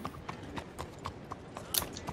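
Horse hooves clip-clop at a steady walking rhythm in the Red Dead Online video game, about ten evenly spaced, fairly soft hoofbeats with a faint bit of voices in the background.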